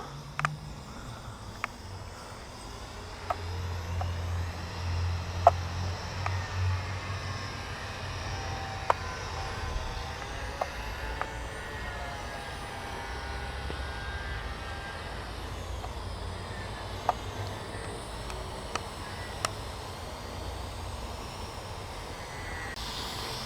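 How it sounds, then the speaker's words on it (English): An LM RC LM01 WiFi quadcopter drone flies outdoors on a windy day, giving a steady, moderately quiet buzzing hum throughout with a low rumble beneath and a few faint scattered clicks. "Drone is actually following me"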